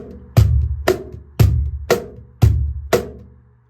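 Rock rhythm played on a cajon at normal speed: six strong hits in a steady alternating pattern, deep bass thumps trading with sharper slaps, close and loud with no other sound.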